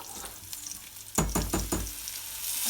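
Ground masala frying in hot oil for a traditional Maharashtrian colocasia-leaf curry (aluchi patal bhaji). A few sharp sizzling bursts mid-clip fade into a steady, close crackle.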